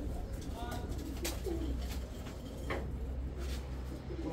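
Pigeons coo softly in a coop, low repeated calls rising and falling over a steady background hum, with faint voices nearby.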